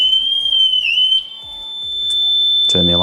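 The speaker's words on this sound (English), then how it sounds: "Turn the alarm off." A Honda NC750X motorcycle's alarm sounds right after the ignition is switched on: a loud, steady high-pitched electronic tone with a brief warble, then a short pause before a voice speaks close by.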